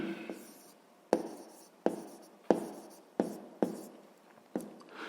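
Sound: writing down a math solution

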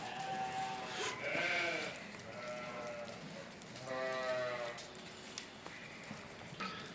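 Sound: goats bleating

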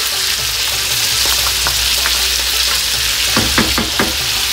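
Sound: garlic ginger paste frying and stirred in pan for Peshawari chicken

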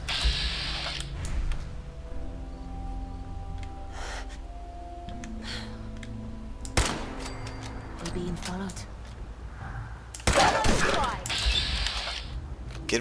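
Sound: gunfire in the video game Fallout 4

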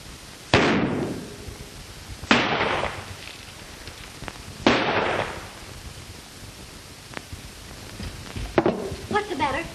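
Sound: gunshots in a western film

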